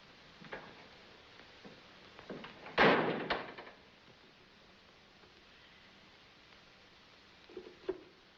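A door in a 1930s period setting shuts with one loud, sharp slam, followed by a quick rattle. Faint ticks and knocks come before and after in a quiet room.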